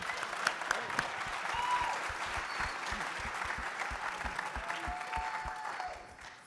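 An audience at an Air Force Association conference session applauds General Healy, the new Air Force Reserve commander, with a moderate, steady round of clapping. Slightly distant and rather soft, it fades gently near the end.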